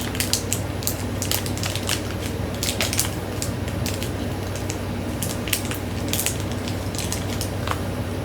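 Disney pin packaging being torn and ripped open by hand, a close, continuous crinkling and crunching with sharp tearing bursts throughout, no talking.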